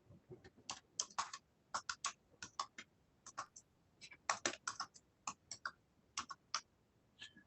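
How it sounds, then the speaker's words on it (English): Quick bursts of keystrokes on a computer keyboard, clicking in irregular runs with short pauses, close and fairly quiet. "Just typing these in real quick"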